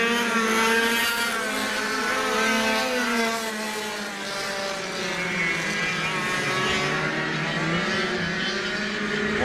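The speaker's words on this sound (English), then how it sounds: "the sound of Formula 100 engines screaming around this 756-metre track" Several Formula 100 heavy karts scream around a 756-metre track at a Lithgow karting event, a dense, continuous high-pitched two-stroke engine chorus with overlapping revs that holds steady and loud throughout.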